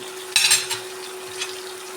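Lemon pickle with vinegar and asafoetida is sautéed, with one sharp scrape of a spoon in the pan followed by softer stirring against a quiet sizzle.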